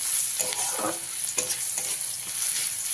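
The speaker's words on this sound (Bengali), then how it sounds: "5-6 কোয়া রসুন থেতো করে নিয়েছি। দিয়ে হালকা করে একটু ভেজে নিতে হবে।" Crushed garlic sizzles steadily in oil in a pan while a utensil stirs and scrapes a few times, close and moderately loud, with no voices.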